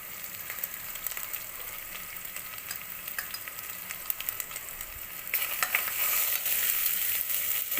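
Turmeric and spices sizzling in hot oil in a pan, a steady close frying hiss throughout with soft stirring scrapes, growing slightly louder toward the end, no talking.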